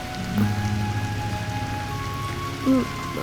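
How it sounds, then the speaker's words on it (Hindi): Heavy rain pours steadily outdoors in a Hindi short film scene, a continuous wash of drops with a faint low tone running underneath and no talk. "वो बारिश बहुत तेज हो रही है"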